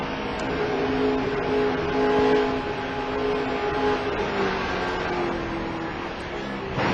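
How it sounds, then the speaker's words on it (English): A NASCAR race car under throttle at the Phoenix track gives a sustained, droning engine tone that holds steady throughout at moderate loudness. "Let's listen to Michael and see if the car gets loose under throttle here."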